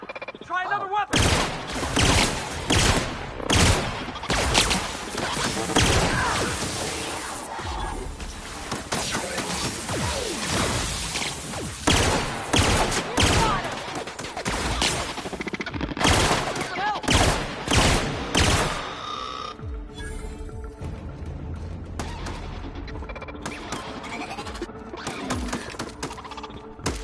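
Repeated weapon gunfire in The Outer Worlds on PS4, loud bursts and rapid volleys across the whole stretch with crashes and impacts between shots, set in an abandoned habitation.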